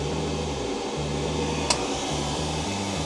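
Worcester boiler running after repair, giving a steady mechanical hum with a faint fan-like hiss and a slight pulsing in its low drone, plus one brief click partway through.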